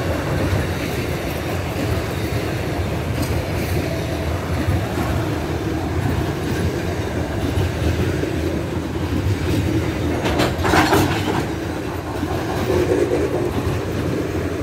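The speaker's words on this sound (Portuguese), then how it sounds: "as locomotivas se comunicam e andam na mesma marcha e freiam também juntos" A loaded freight train hauled by five locomotives rumbles past in a continuous loud roar, with steady rolling wheel noise and a brief metallic squeal partway through.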